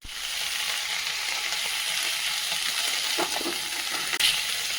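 Vegetables with salt and turmeric sizzle steadily in a pan while being stirred, a constant frying hiss with a few brief scrapes and a sharp clink near the end.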